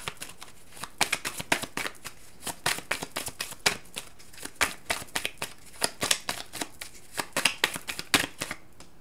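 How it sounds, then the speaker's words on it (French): Tarot cards are shuffled by hand in a quick series of soft riffling and slapping bursts, close and fairly quiet, with no talking. "Je vais quand même demander une carte en supplément."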